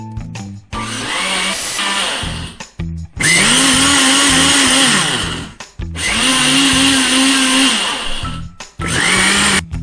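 A Silvercrest 600W blender running with water whirs loudly in three close bursts of a few seconds each, its motor pitch steady under a churning hiss, separated by short pauses and clicks.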